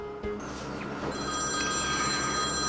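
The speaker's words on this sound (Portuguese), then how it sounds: "Agora eu vou ligar para a Emily para ver se a mãe dela deixou ela vir." A cartoon telephone rings in a children's animated scene, a steady electronic ring tone with sustained high pitches, fairly loud and continuous, with background noise under it.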